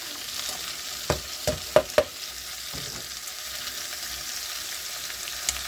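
Tomatoes are added to a pot of beef stew with carrots and green pepper, cooking with a gentle steady sizzle and a few sharp stirring knocks and clinks early on.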